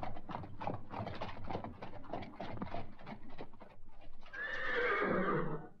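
A horse gallops with quick, rapid hoofbeats, then lets out a loud, rising neigh near the end, heard alone with no talk.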